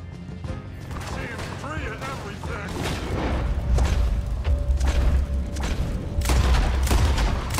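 Several gunshots ring out in the Red Dead Redemption 2 video game, sharp booming cracks over rumbling background action and a continuous low drone, with someone talking over the scene.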